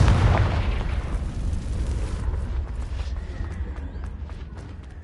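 Fiery Confringo spell blast in the Hogwarts Legacy video game, a loud booming burst at the start that rumbles and decays over several seconds, with no talk.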